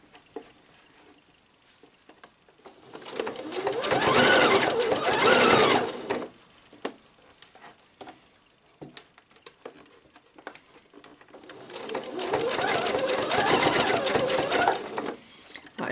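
Sewing machine running in two bursts, stitching an elastic shirred summer dress with an overlock-look stitch, a rapid close whirring patter separated by quiet handling noises.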